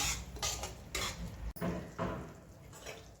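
Semolina roasts in ghee in a pan over low heat while a spoon scrapes and clinks against the metal in repeated strokes, close and clear, with no voices.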